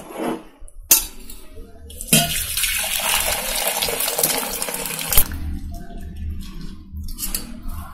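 Cooked drumstick soup strained and poured off: a sustained, loud rush of splashing liquid for several seconds, with a few clinks of a vessel before and after.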